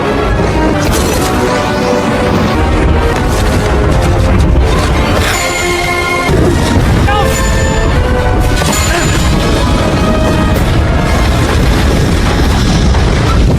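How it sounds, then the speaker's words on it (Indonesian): A tower explodes in a Sleepy Hollow film scene: heavy booms and crashing blasts rumble loudly over a dense musical backdrop, with a sudden break midway before the din resumes. "membakar menara tersebut hingga meledak"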